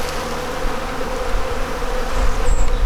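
Buckfast honey bees buzzing around an open hive during a nuc transfer, a dense steady hum close by, swelling slightly louder toward the end.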